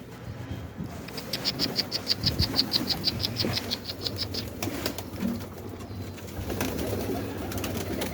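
Pigeons coo and flutter close by with rapid repeated calls, wings flapping now and then against a busy, rustling background, in Mardin.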